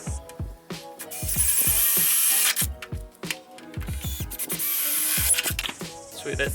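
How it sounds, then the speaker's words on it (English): A power drill bores holes through a drag wing for an R32 Skyline, two sustained whirring bursts with bright high whine, surrounded by short knocks and handling clatter, close and fairly loud. "Drill the other two."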